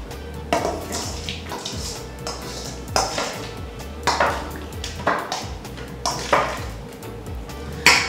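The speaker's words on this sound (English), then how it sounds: "I'm just gonna mix it in there, mix it together" Jerk marinade being mixed in a bowl, rhythmic clinks and scrapes of a utensil against the bowl repeating every second or so, close and fairly loud.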